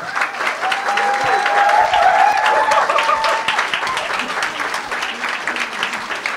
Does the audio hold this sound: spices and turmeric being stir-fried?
no